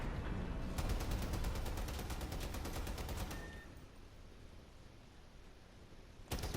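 Vehicle-mounted guns in the Crossout video game fire a rapid burst of evenly spaced shots for about three seconds, then give way to low engine rumble, with one more sharp shot at the end.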